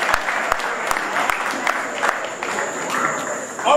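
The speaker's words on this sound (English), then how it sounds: "The people round of applause. We can do that some more, please. Can we put those hands together some more?" Applause from the audience at a closing ceremony, a steady wash of clapping with sharp individual claps standing out, fairly close and moderately loud.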